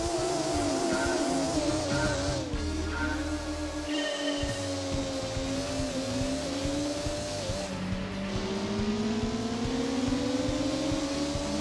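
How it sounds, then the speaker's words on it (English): Mitsubishi Cyborg ZR with a naturally aspirated tune-up racing in Gran Turismo 2, its engine droning loud and continuous, pitch rising and falling through gear changes, with brief tire squeal. "Engine sound is different, possibly because of this NA tune-up."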